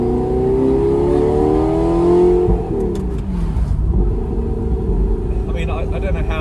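An Audi R8 V8 fitted with a new aftermarket exhaust revs loudly nearby, the engine note rising and then falling back, with someone talking over it.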